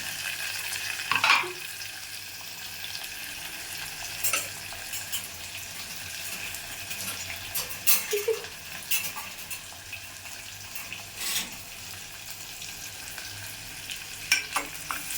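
Onion and tomato frying in a pan for pea rice, a continuous low sizzling hiss with occasional scrapes and knocks of a stirring spoon, heard close and alone.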